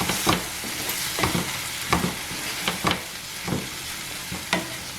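A spoon stirs paneer curry with red chilli powder, green chilli and salt in a pan, making rhythmic scraping strokes about once a second over a low, steady sizzle.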